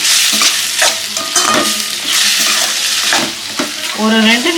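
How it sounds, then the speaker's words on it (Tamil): Mutton pepper fry sizzling loudly in a pan as it is stirred, bursts of hissing and scraping strokes close by, with a brief watery bubbling at the end. "சூப்பராக ஃப்ரை ஆகிடுது"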